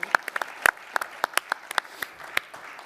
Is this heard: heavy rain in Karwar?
no